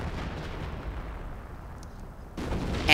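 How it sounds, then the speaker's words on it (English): A walking artillery barrage in Company of Heroes, the Royal Artillery battle rumbling as a dense, steady roar of low booms, with a sharper, louder burst of impacts near the end. "I also called in, I think, a walking barrage on them again"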